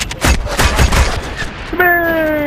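Gunfire in the online shooter MAG, a loud close burst of several rapid shots followed by a sustained ringing tone.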